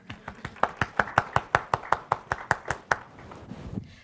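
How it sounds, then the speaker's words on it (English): A single person claps hands in a quick, even run of about fifteen sharp, close claps, then the sound fades off. It is fairly quiet and there is no talk over it. "So let's give you a round of applause"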